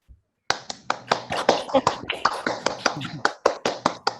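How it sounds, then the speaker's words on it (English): Participants in an online meeting unmute and clap together, an uneven burst of hand claps from several people coming through their microphones after a brief silence, fairly close and without talk. "So unmute and we clap"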